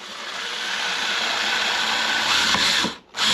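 A 3.5 mm bit drills a hole through a wooden Mirror dinghy paddle: a steady, close, high-pitched whirring drone that runs nearly three seconds, then dips briefly as the bit breaks through and the drill eases off.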